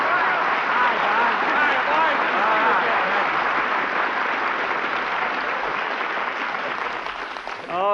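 Studio audience applause during a comedy television show, loud and continuous for several seconds before tapering at the end, with crowd noise layered in.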